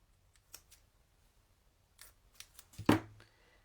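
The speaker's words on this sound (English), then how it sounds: "Cut off your tails so that they're equal." Scissors snip ribbon bow tails for a handmade mini card: a few faint scattered clicks, then one sharper, louder cut near the end in a quiet room.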